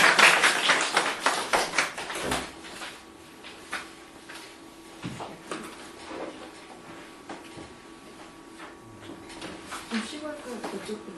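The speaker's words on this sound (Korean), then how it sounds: "박수 이렇게 하실 거예요." An audience claps in a brief, dense burst for about two seconds at a Korean book-launch talk for a guest lecturer. It gives way to quiet room noise, scattered taps and people talking.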